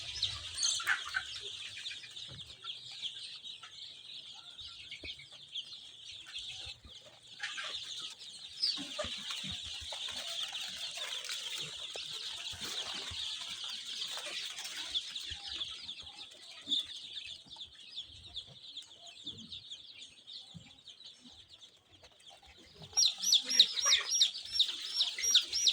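A big flock of Sonali super hybrid chickens, about 3000 young and grown birds kept indoors in a poultry house, clucks and chirps constantly. The busy chatter grows louder and denser near the end.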